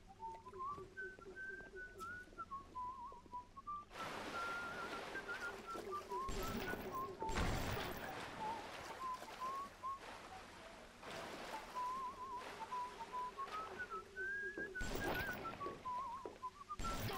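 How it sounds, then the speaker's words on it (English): Eerie melodic whistling in the video game BioShock, a wavering tune that drifts up and down and carries on through the whole stretch over a dim ambient bed, with louder bursts of game noise cutting in now and then. "Who is whistling?"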